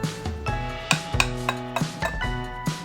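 Dry muffin ingredients of flour, sugar, baking powder, baking soda, salt and nutmeg whisked in a large bowl, a close rhythmic scraping and clinking of the whisk, with no voices.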